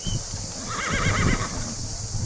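A horse neighing at a pigeon show, one clear wavering whinny at moderate distance over background noise and light hoof sounds, no talk.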